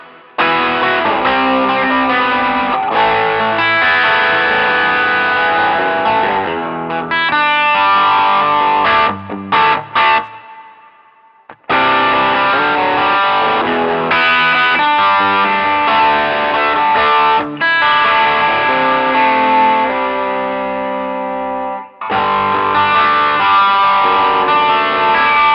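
Electric guitar played through a Boss DM-2 analog delay pedal with boost and distortion, sustained overdriven chords and notes with echoing repeats, loud, with brief gaps of silence between phrases.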